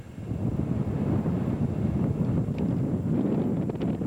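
Strong wind roars continuously against the microphone, a dense, rumbling buffeting that never lets up, with no voices heard.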